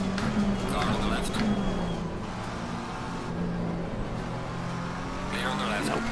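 Race cars in Assetto Corsa Competizione at Kyalami roar past one after another, engines rising and falling with a brief tire squeal, while someone talks over the noise.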